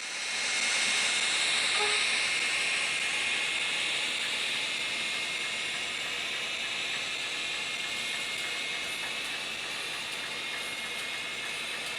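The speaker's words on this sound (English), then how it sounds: "right away, the steam engine comes back, this time with a set of passenger cars behind it" An HO scale model steam locomotive on a model railroad gives off a continuous broadband hiss that stays steady and fairly quiet for about twelve seconds, with no speech over it.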